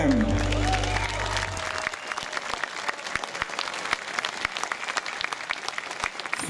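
Audience applause after a band's set at the Banjo Jamboree bluegrass festival in Čáslav, a dense crowd clapping that follows the band's final ringing notes and carries on steadily at a fair distance.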